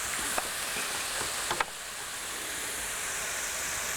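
Food cooking in a pan sizzles steadily with a broad hiss, with a couple of brief clicks or stirring knocks early on and no talking.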